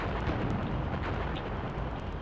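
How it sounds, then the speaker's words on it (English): Grenade rounds exploding in the PS1 game Duke Nukem: Land of the Babes, a dense run of low booming blasts and crackle that stays loud and continuous, with no talking. "let's go crazy with the rest of those awful, with those awful grenade rounds"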